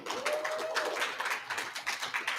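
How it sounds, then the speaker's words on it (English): An audience at a media summit applauds and claps continuously, a dense steady patter of many hands, fairly close and loud throughout with no speech over it. "let's give them a round of applause one more time"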